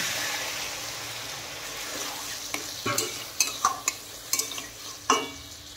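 Fried fish head stirred into a pan of pumpkin and vegetables, a low sizzle under a run of sharp spatula scrapes and clatters growing busier toward the end, with no voices.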